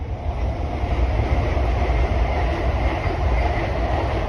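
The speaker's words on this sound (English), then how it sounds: "Yeah, we've got trains." A train rumbles past close by, a loud steady roar of rail noise with a faint rhythmic clatter of wheels over the track and no voices.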